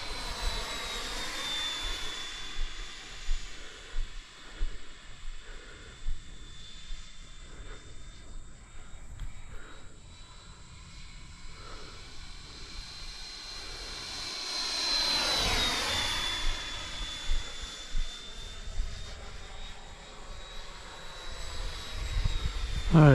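An Intruder RC model airplane cruising at about 40% throttle, its small motor giving a steady high whine that swells and fades as the plane passes, loudest near the middle, with light wind noise and no talk.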